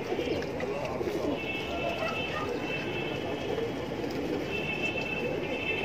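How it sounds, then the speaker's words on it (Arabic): Domestic pigeons cooing outdoors on a rooftop loft in Ain Shams, a soft steady murmur beneath constant background noise with a faint voice in the mix. "انا فتحت لكم الحمام"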